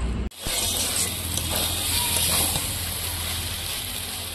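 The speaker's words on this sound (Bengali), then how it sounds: "এবার সব কিছুর সঙ্গে আমি 2 মিনিট ভালো করে কষিয়ে নেব।" Prawns sautéing in a spice masala in a pan, a broad steady sizzling hiss that starts abruptly after a brief gap and holds at an even, fairly loud level.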